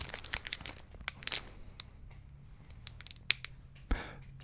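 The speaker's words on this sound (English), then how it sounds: "For fans of crinkle sounds, this is very crinkly." Crinkly plastic wrapper on a bar of caramelized white chocolate from New Zealand, crackling in sharp close bursts with short pauses, one louder crunch near the end, no talking.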